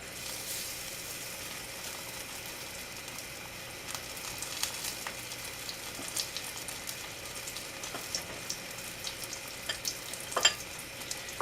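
Keto zucchini slices coated in egg and pork rind crumbs frying in a pan, a soft steady sizzle with scattered pops and crackles, close and alone without talk.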